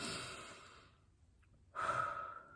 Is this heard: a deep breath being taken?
yes